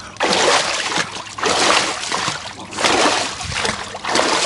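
Water splashes in a cold plunge tub filled at about 60 degrees, with four loud close bursts of splashing and sloshing spaced roughly a second apart, quieter trickling between them.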